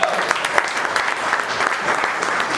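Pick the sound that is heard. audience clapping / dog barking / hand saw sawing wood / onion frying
audience clapping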